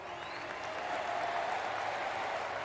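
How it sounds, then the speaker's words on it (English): Steady crowd applause from a video game, Pathfinder: Wrath of the Righteous, fills the clip, a dense even wash of clapping at moderate loudness with no pauses. "Applause to you, good sir, for putting Nenio in her place"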